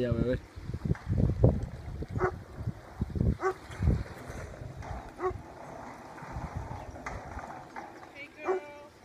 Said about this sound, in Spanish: Un perro me está ladrando desde allá